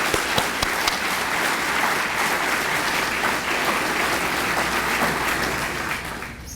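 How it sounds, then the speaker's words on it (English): Steady round of audience applause at a scholarship brunch, dense and fairly loud clapping sustained for several seconds before tapering off at the end. "Help me give them a round of applause."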